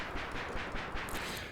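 Analogue Solutions Fusebox synthesizer noise source switched to its low level, a steady hiss passing through the filter, with soft rhythmic swells and no voice.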